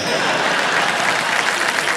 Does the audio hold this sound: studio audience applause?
yes